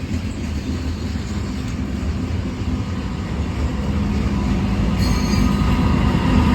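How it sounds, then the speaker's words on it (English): Union Pacific locomotive and train cars rolling past at Glendale, a loud steady rumble with high metallic wheel squeal rising near the end, no voices. "another another Union Pacific locomotive, 6056."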